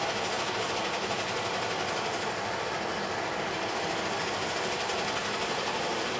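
An MSR Dragonfly camping stove burning at full output gives a loud, steady roaring hiss with a fine rapid flutter, unbroken and close for the whole stretch, with no voices.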